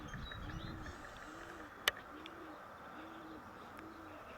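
Pigeons hovering over a dovecote on a windy day, with soft low cooing repeating at a steady rhythm under broad wind noise, plus one sharp brief click midway.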